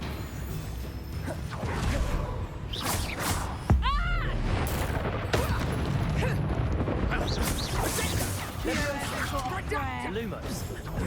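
Confringo fire blast spells cast in Hogwarts Legacy, a few whooshing, crackling bursts of fiery impact in a busy combat scene, heard under frequent character voices and other spell effects.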